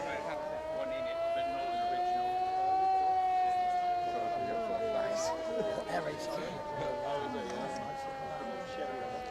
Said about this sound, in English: Sounds like we've got an air raid siren in the background.